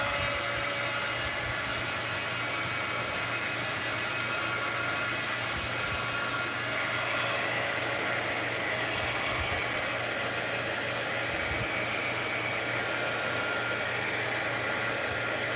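A steady, loud blowing hum from a heat or hair dryer drying a craft postcard runs unbroken throughout, close and continuous, with a low droning undertone and no voices.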